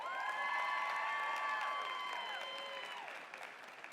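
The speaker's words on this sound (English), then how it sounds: "Please give all of them a round of applause." An audience at a Class of 2026 graduation ceremony applauds in a broad, steady wash of clapping, with high cheers and whoops rising above it. The whole sound tapers off gently toward the end.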